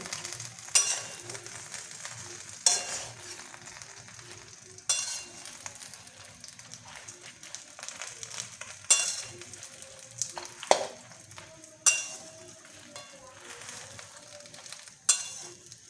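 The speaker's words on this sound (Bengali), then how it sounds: "এবার আমি গুঁড়োটা দিয়ে দেবো আর একটু নেড়ে নেব" Spice powder being stirred into a pan of jujube pickle, giving a soft, low sizzle broken by periodic scraping strokes and light clinks of a spoon against the pan, steady and close with no talking.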